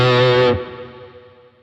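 An electric guitar with heavy distortion plays a short stab from a riff with no tremolo, through a Walrus Audio Monumental pedal setup. One loud, thick chord is cut off sharply and leaves a brief fading ring.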